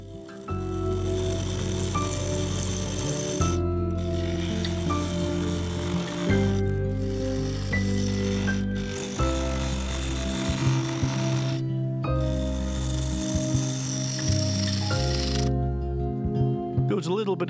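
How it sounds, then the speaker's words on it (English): A lathe spins a yew and resin blank while a 3/8 bowl gouge cuts into it, giving a steady close whir with rhythmic tonal hum and repeated pauses between passes, accompanied by background music. "Using the 3/8 bowl gouge, I cut into the blank"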